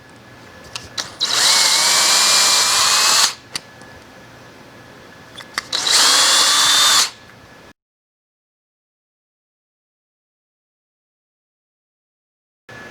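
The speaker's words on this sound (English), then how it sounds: "We want to line up our 1/8 inch drill bit with that little indentation and drill all the way through our project" A power drill with a 1/8 inch bit bores through solid oak in two loud, steady bursts, each about two seconds long, separated by a short pause and followed by silence.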